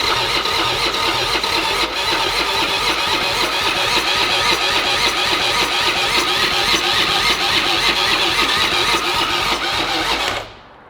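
The engine of a totaled Harley-Davidson motorcycle fires and runs steadily at a loud, close idle with a rapid, continuous rumble, then cuts off abruptly at the end.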